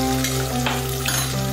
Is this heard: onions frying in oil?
yes